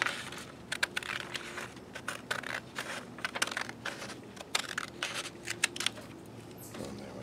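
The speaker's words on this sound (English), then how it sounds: "we'll just line up that first line with the scissors and cut" Scissors snip through paper while cutting out a beetle craft, a quick, irregular run of soft cuts and crisp rustles, close and quiet, with no voices.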